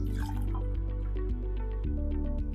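Preheated water pours into a drinking cup on a kitchen countertop, a steady close liquid fill with dripping and trickling texture running throughout, no talk.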